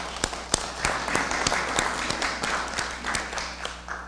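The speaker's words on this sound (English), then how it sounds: "So let's give yourselves a round of applause." Attendees at a resort's annual owners' meeting give themselves a round of applause, a modest, fairly sparse clapping from a small crowd with a few sharp, distinct claps standing out above the room.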